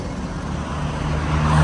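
A car drives past on a street in Cape Town, South Africa, its engine rumble swelling steadily louder as it nears over under two seconds with no talking.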